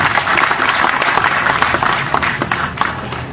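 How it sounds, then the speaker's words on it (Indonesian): Audience at a talk applauding together, a dense, steady wash of many hands clapping that stays loud throughout with no voices over it. "Tepuk tangan semua teman-teman sekalian untuk cinta kita bersama."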